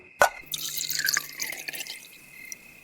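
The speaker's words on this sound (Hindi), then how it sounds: "और फिर एक कपड़े को पानी में भिगोते हुए प्रत्यक्षा के हथेलियों और पांव में उस पानी के कपड़े को रगड़ने लगा" Water dripping and trickling as a cloth is soaked in a vessel, a sharp initial splash followed by a cluster of close, bright drips and trickles that taper off into quiet.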